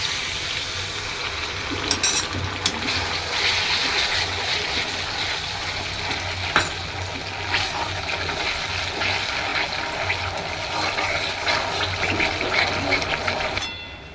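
Water with a few tulsi leaves is poured into a pan of Manchurian gravy, making a steady, continuous rushing splash that runs for about fourteen seconds with no talk over it.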